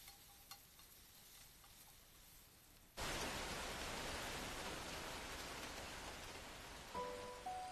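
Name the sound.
rain falling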